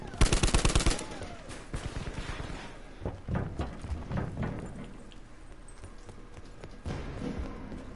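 Video game gunfire: a fast, loud automatic burst opens, followed by scattered sharper single shots and quieter pops spread across the rest, with background game ambience between them.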